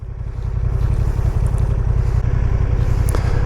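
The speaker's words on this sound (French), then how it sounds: "Je vais laisser passer le tracteur." A heavy engine rumbles close by with a deep, pulsing throb that swells in the first moment, then holds steady and loud.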